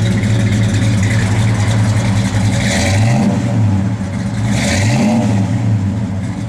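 A 1968 Dodge Coronet 500 convertible engine running loud and close, holding a rumbling idle then revving up twice in rising sweeps that fall back, with no talk over it.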